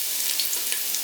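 Ginger frying in a hot pan for a chicken starter gives a steady, close sizzle with small crackles and pops throughout.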